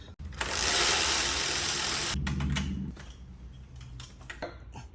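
Mechanical clicking and grinding from a ratchet working the alternator bolt on a 2017 Ford Explorer with the 3.5 naturally aspirated engine, a loud continuous burst up close followed by a lower churning and scattered sharp clicks.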